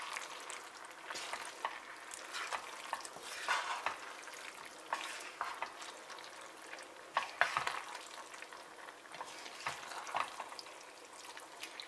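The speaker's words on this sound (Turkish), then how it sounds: "Makarnayı sosla beraber güzelce karıştırıyorum." Pasta being stirred with sauce in a pan, giving a steady wet scraping and gentle sizzle with irregular spoon clicks and pulses throughout, moderately loud and with no talking.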